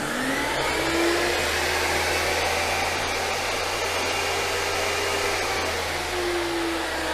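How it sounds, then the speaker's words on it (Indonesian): A loud, harsh brushed-motor table saw whines steadily and continuously at close range, with a noisy high-pitched drone and no talking. "Teman-teman bisa bedakan suaranya kalau kita bandingkan dengan table saw yang ini."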